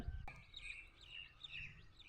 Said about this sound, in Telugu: వినబడుతుందా ఫ్రెండ్స్? పిట్టల సౌండ్ చూడండి.